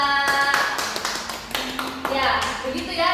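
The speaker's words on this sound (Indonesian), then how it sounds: "Ya, tepuk tangan untuk kelompok 2." Classroom applause for a student group during a microteaching physics lesson, a short burst of many hands clapping at close range with children's voices and shuffling mixed in.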